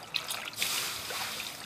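A garment being rinsed in water during hand washing, giving a soft continuous trickle and slosh of liquid at close range, fairly quiet with no talk.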